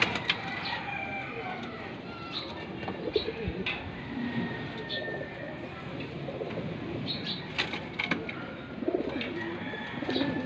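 Young racing pigeons coo softly in a loft, with low murmuring calls repeating under light background chatter and occasional wing flutters and clicks.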